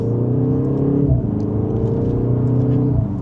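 A BMW M235 in sport mode pulls mildly in second gear, its engine a loud, steady, harmonic drone heard from inside the cabin, rising slightly in pitch across a few seconds.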